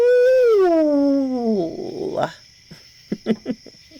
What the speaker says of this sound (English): far off in the distance, my now recovered hearing detected a hunting howl